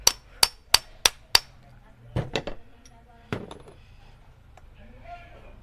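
Five sharp metallic knocks in quick even succession as a bicycle bottom bracket bearing is pounded on a hard surface, then a few duller thuds and clatter, close by, with faint speech between.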